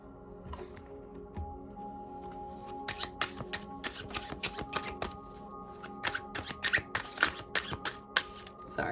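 Tarot cards with a soft, corduroy-like texture are shuffled by hand in a run of quick, crisp riffling bursts that grow busier partway through, close and fairly quiet with no talking.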